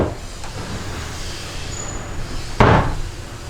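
A dovetail drawer aboard a yacht shuts with a single sharp thud near the end, preceded by a quiet background hum and a faint earlier knock.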